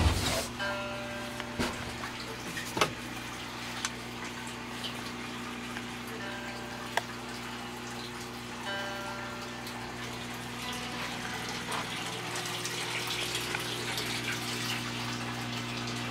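Water sloshing and a pump or motor humming steadily as a machine washes laundry with detergent, heard close and continuous with a few faint clicks and knocks, no talking.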